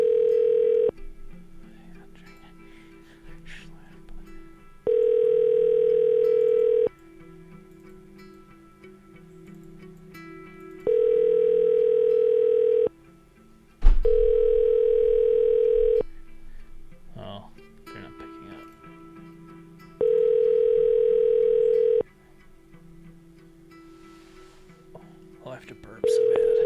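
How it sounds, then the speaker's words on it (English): A hotel's telephone line gives a repeating ringback tone, steady tone bursts about two seconds long returning every four to five seconds. A faint voice and small noises come through in the gaps. "It sounds like a dial tone."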